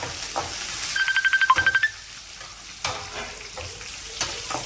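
Onions and curry leaves frying in a pan, with a steady background sizzle and a few scraping stir strokes, plus a brief rapid run of rhythmic ticking bursts near the start.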